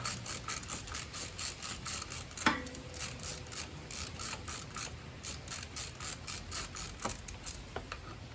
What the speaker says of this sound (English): This kind of ratchet comes in handy when you have a tight space.